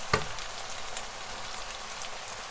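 Vegetables and mushrooms frying in a pan give off a steady, close hiss of sizzling, opening with a single sharp tick.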